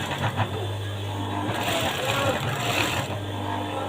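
A sewing machine stitches along a pocket in a tailoring workshop, its motor whirring steadily and up close for a few seconds with a voice talking faintly underneath.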